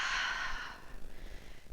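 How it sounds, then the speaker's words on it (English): A long, deep exhale during a slow yoga wind-down, a soft breathy rush that fades after about a second, leaving quiet room tone. "Keep breathing deeply."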